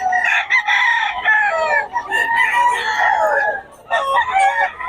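Several Batangas roosters crow in overlapping calls over about five seconds, loud and close, with clucks between the crows.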